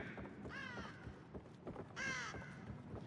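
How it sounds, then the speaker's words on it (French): Crows caw in the horror video game The Evil Within, two harsh calls about a second and a half apart, somewhat distant and fairly quiet over a low rumbling ambience. "J'entends des corbeaux."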